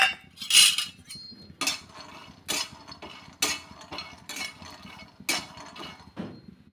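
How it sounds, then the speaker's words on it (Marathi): Peanuts are dry-roasted in a hot kadai with no oil, producing close, rhythmic metallic clinks and rattles from stirring against the pan in short repeated bursts. "कढई छान गरम झाली आहे आता भाजून घेऊया शेंगदाणे"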